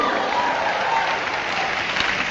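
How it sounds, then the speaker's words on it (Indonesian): Sustained applause from a congregation during a Pentecost church service, dense and steady clapping filling the room throughout with no pauses. "Bersorak-sorai, tepuk tangan dulu."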